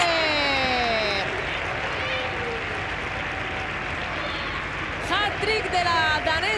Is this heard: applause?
yes